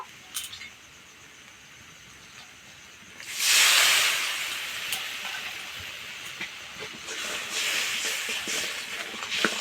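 Water is poured into hot fish curry spices frying in a pan for a Rupchanda fish oil curry, bursting into a loud hissing sizzle partway through that settles into a steady, softer crackle.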